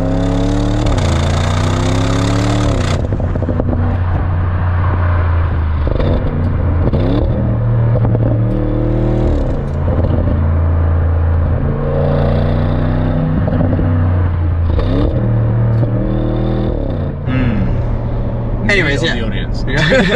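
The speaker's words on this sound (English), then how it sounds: "Let's actually put a clip of the exhaust now and you tell us what you think" A 2023 Audi RS6 or RS7 V8 exhaust drones and revs repeatedly, the pitch climbing and falling in a steady series of pulls, loud and close throughout.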